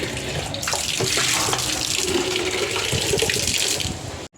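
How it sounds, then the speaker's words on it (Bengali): Water poured from a container onto dry, sandy plant soil in a home, a steady splashing, trickling stream running close and loud for about four seconds before stopping abruptly. "এই জায়গাটায় একটু জল ঢেলে দিই,"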